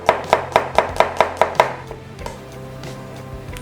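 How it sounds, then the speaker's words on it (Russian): Knife quickly chopping part of a garlic clove on a cutting board, about eight crisp, evenly spaced chops in a steady rhythm, close and clear, then a quieter pause. "Нарезаем чуть-чуть чесночка."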